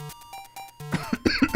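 A person with a cold coughs several times in quick succession, close and fairly loud, with short pauses between the harsh bursts.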